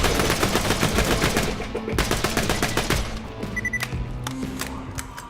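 Rapid fire from a Twin Shot Anarchist gun in Borderlands 2, a dense close burst of quick shots that thins into scattered single shots and mechanical clicks as it ends.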